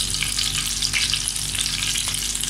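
Garlic and carrots fry in oil with a constant, close, hissing sizzle and light crackling throughout, with no voices.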